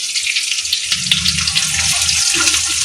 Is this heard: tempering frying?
yes